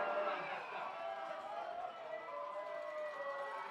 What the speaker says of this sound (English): Alberta certainly hope he is, as the crowd comes alive